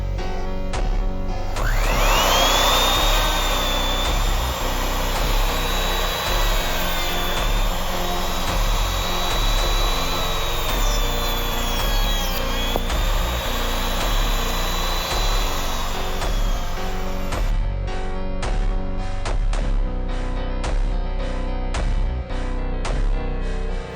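A panel router cutting a panel on a clock-making job spins up into a loud, steady high whine with grinding cutting noise for about fifteen seconds, then winds down into a series of sharp clicks and clamp knocks.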